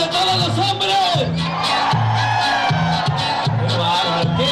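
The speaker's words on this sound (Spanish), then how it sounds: "¡Ese grito de todos los hombres!" A crowd of men at a live grupero concert shouts a loud, sustained collective cheer on cue, with whoops and bellows rising over pulsing band music throughout.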